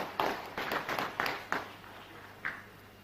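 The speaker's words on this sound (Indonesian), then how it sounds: "Kita tepuk tangan untuk para wisudawan." Scattered, uneven hand claps from a small audience at a university graduation ceremony for distance-learning graduates, a handful of sharp bursts over a steady room hum, tapering off toward the end.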